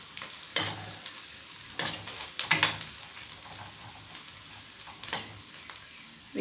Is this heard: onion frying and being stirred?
yes